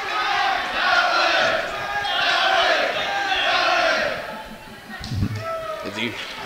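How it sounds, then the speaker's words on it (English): Student section cheering at a high school girls' basketball game, Forest Hills versus Bishop Guilfoyle, in waves of loud shouting and chanting. The cheering eases toward the end, where a few sharp ball bounces and sneaker taps come through. "As you hear the student section cheering every little part of the game."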